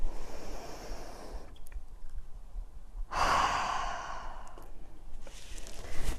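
Slow breaths during a guided healing meditation, with a long, airy exhale through the mouth standing out in the middle, softer breathing before and after, close and quiet with no talking.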